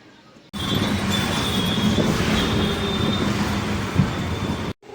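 A train runs steadily at a railway station, a broad continuous rumble with a high metallic wheel squeal on top and a faint clack near the end, close and loud, with no talking.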